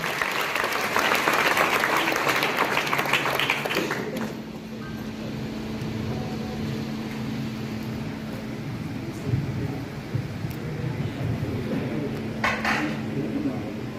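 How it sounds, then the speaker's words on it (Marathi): Audience applause at a prize ceremony for a winning ITI volleyball team, loud dense clapping for about four seconds that then drops to a quieter room murmur with a few scattered claps. "त्याच्यासाठी जोरदार टाळ्या वाजवली."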